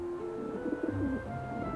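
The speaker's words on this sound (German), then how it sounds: "Fliegen jetzt hier Tauben rum?" Pigeons cooing in the video game Pigeon Simulator, a short burst of soft low coos heard up close and alone.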